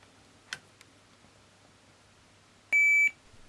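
A multimeter in continuity test mode, checking the legs of a push button, lets out one short, loud, steady electronic beep near the end, preceded by a couple of faint clicks in a quiet room.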